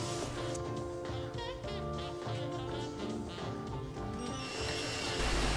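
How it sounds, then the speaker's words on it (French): A power drill bores 5 mm pilot holes in wood while a workshop cabinet is being built. A steady, close, whirring drone runs throughout, with a brief change in pitch near the end. "Et pour les mettre en place, donc je perce à 5. Je fais un avant-trou à 5"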